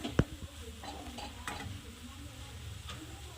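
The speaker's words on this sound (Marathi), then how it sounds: "आता यामध्ये आपण सांबार ॲड करू थोडं मिक्स व्यवस्थित करून घ्यायचं" Dal methi being stirred in a pan with sambar masala, a sharp metal clank from the spoon followed by soft scraping and quiet sizzling.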